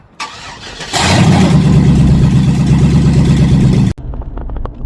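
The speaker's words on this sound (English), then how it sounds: "when I start it, it just revs up to the moon" An L33 5.3 LS swapped into a G20 van cranks and fires, then surges into a loud, sustained high rev for about three seconds before cutting off abruptly, leaving a quieter rumble behind.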